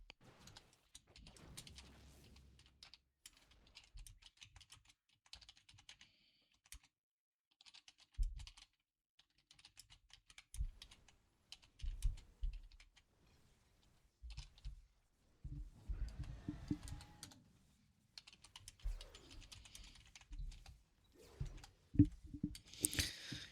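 Typing on a computer keyboard picked up by a nearby streaming microphone, irregular bursts of quick clicking keystrokes with pauses between, quiet to moderate and close.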